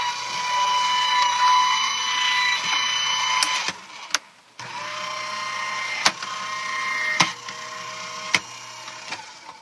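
Die-cutting machine with forward and reverse feeding a card stock tri-fold shutter card die through its rollers: a steady mechanical whir with scattered clicks and brief thumps, one short dip midway, close and fairly loud.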